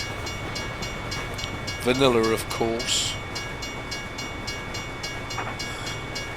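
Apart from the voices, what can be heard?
train passing in American Truck Simulator video game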